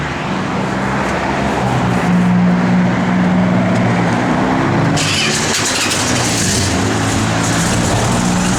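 A 1970 Plymouth Road Runner with a 440 V8 and a mild cam runs at a steady, loud, close idle, a deep rumbling hum that turns harsher and brighter partway through.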